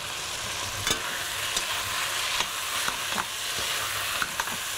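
Tomato paste fries and sizzles in a pan for fish soup, with a steady hiss throughout and several sharp scrapes and knocks of a spoon stirring it at irregular intervals.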